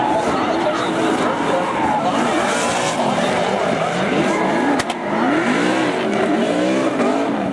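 Drift cars at a Formula Drift event, including a turbocharged Nissan 350Z and a Ford Mustang RTR, with loud constant engine roar and screeching tire skids, under a commentator's steady talk.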